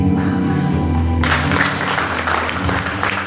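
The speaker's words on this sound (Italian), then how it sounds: "Un applauso," Audience applause fills a Miss Europa regional final pageant in Veneto, a dense wash of clapping that swells abruptly about a second in and stays loud and steady, with music or voices faintly underneath.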